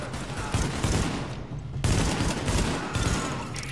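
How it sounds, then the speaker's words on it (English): Sustained heavy gunfire in the video game Tom Clancy's The Division, a dense continuous fusillade of overlapping shots with a brief dip midway, loud and close with no talk. "The escort party's taking heavy fire from the roof."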